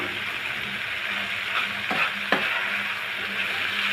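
Bitter gourd frying with shrimp in a pan, a steady sizzle with a couple of brief stirring scrapes partway through, close and continuous with no talking.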